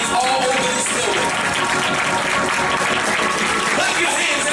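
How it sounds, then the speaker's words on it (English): A church congregation claps throughout the building, the clapping loud and continuous, blended with crowd noise, voices and music-like tones. "I want you to begin to clap your hands all over this building."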